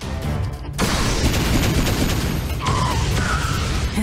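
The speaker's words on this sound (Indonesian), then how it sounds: "Sekarang giliranku. Senjata sinar biru," Blue ray gun blasts in an animated cartoon fight, a dense, loud, continuous zapping barrage with a brief pause near the start and rising whistling tones toward the end.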